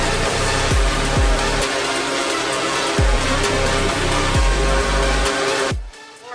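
A DJI Inspire 3 drone hovers indoors, a dense steady whirring buzz of propellers filling the space, with several sharp low thumps punctuating it before the noise cuts off abruptly near the end.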